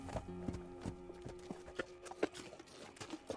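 A radio-drama sound effect of horse hooves clip-clops in an uneven, close, fairly quiet rhythm, with a faint tonal hum underneath and no talking.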